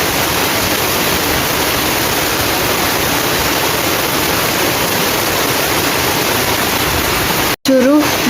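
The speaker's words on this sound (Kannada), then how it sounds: "ಫುಲ್ಲು ಜೋರು ಗಾಳಿ ಬರ್ಸ ಬರೋನುಂಡು" Heavy rain driven by strong wind roars as a dense, constant wash of noise, loud and close, until it cuts out abruptly near the end, when a voice briefly speaks.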